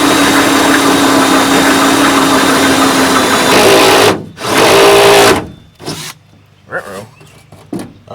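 A drill drives self-drilling screws into an aluminum jon boat's transom with a loud, continuous whirring whine. A second short burst follows, then quieter moments broken by a few brief knocks and clicks.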